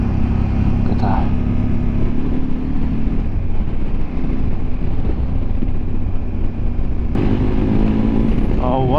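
Motorbike engine droning steadily while riding on a road, a loud continuous rumble with shifting tone and wind noise, plus a brief voice under it.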